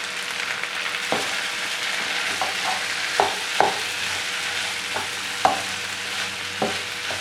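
Onion and curry leaves sautéing over medium heat in an iron kadai, a continuous bright sizzle broken by several sharp spatula scrapes and knocks against the metal.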